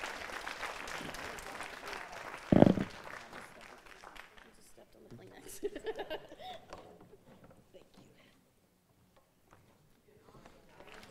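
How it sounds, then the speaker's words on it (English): Church congregation applauding after a sermon, a short burst of clapping early on with a sharp loud knock, then fading into scattered noise and quiet room sounds. "So just give them a round of applause one more time."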